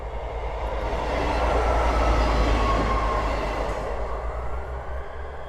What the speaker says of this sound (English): I think there's a train just about due